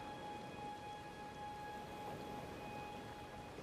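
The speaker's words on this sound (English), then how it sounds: "Is it raining for you?" Steady rain hissing outdoors beside a cave entrance in Elden Ring, a constant broadband wash of drops with a few faint sustained tones running underneath for the whole stretch.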